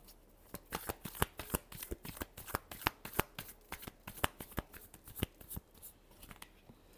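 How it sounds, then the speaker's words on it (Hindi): Tarot cards are shuffled by hand up close, a rapid run of crisp, sharp riffling snaps and flutters repeating in an uneven rhythm throughout, with no voices. "Last shuffle."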